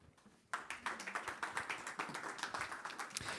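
Applause from a conference audience breaks out after a short quiet lead-in, a dense run of many hands clapping that holds steady and moderately loud, with no talking over it.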